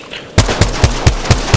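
Automatic gunfire from the video game Apex Legends, six sharp, evenly spaced shots in rapid rhythm after a brief quiet moment, loud and close with no talking.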